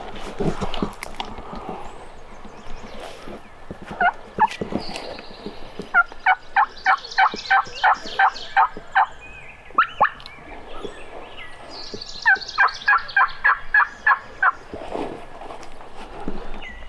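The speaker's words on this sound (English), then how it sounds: "Sound like two gobblers, didn't it?" Wild turkey gobblers on public land gobble in repeated rapid rattling bursts, two birds calling at moderate distance, loud and clear over quiet woods with a few footsteps.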